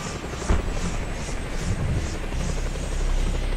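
Steady helicopter rotor thumping and engine whine in the video game Just Cause 2, loud and continuous, with a brief sharp knock near the start.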